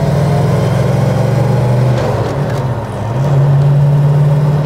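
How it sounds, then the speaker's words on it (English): A deep 4.9 V8 engine in a 1986 Holden HDT VL SS Group A Commodore roars close by, revving up, dipping briefly between gear changes, then pulling strongly again. "If I just go through the gears here, you can have a listen to this."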